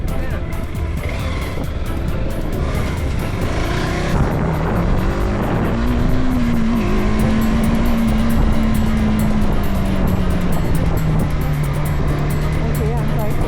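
A TVS Apache RTX motorcycle engine on a hill trail between Shimla and Kufri runs steadily and then builds in pitch as it accelerates. A rider talks over the engine.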